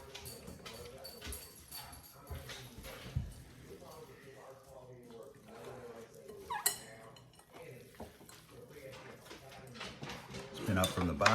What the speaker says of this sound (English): See how it looks once we mix it all in there